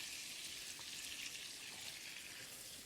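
Fry bread dough cooks in hot butter in a pan, giving a steady, close sizzle of fine bubbling and crackle that holds evenly throughout with no talking.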